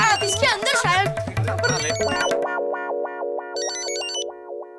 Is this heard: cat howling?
no